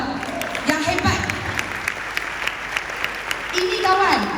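Brief burst of audience applause at a motivational talk on growth mindset, steady clapping from a seated crowd with some voices mixed in, moderately loud and continuous across the moment.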